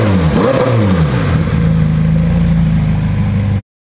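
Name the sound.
damaged McLaren 720S engine revving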